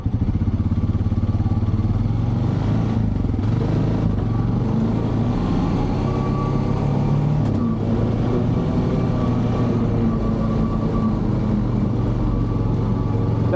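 Honda Pioneer 500 utility vehicle pulling away in gear, a steady close engine drone with mechanical clatter and rumble that holds fairly even as it drives off, no talking.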